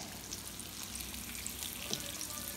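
Breaded shrimp fry in a pan as they are flipped, a steady faint sizzle and crackle with small pops throughout, close up and without voices.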